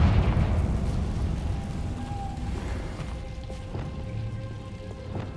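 A Confringo fire spell from Hogwarts Legacy bursts in a deep rumbling explosion that fades over several seconds into quieter game ambience.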